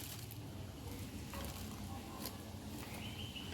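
Rice flour and shredded cabbage pakora batter being mixed by hand, a close, wet squishing and rustling that runs continuously under faint kitchen sizzle, with no one speaking.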